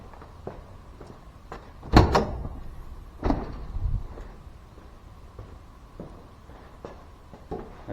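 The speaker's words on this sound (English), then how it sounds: "I swing this gate closed so that they run out." A metal gate on a deer handling chute for fallow deer swings shut on a farm, giving a sharp clanging thud followed by a second bang and softer rattles in a quiet outdoor setting.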